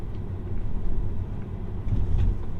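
A Tesla on FSD Beta speeding up along a road, a steady low rumble of road and tyre noise inside the cabin with a slight swell in the second half.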